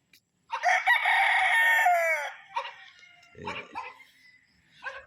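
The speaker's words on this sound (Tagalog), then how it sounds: "ito yung mga manok niya dito" Roosters on a Filipino gamefowl farm: one bird crows a long, loud cock-a-doodle-doo near the start, followed by shorter clucks and calls from other fowl at moderate distance, with no talk over them.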